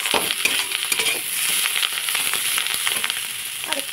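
Soya chunks frying with Malabar spinach stems, a steady close crackling sizzle with scattered sharp pops and spatters throughout, no talking.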